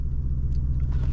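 Lamborghini Urus, 2021, with its exhaust opened in Corsa race mode, giving a short, loud, deep engine rumble close by with a steady low drone and no talk.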